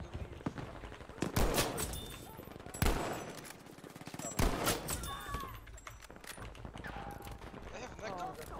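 Rapid gunfire from an online shooter game, with bursts of automatic weapon fire and sharp single shots cracking loudly over a continuous game soundscape, no speech.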